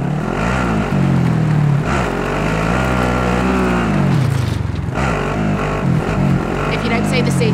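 Engine of a vehicle driven in the Call of Duty Warzone battle royale game, a loud, close, continuous drone that rises and falls in pitch as it revs, with voices talking over it.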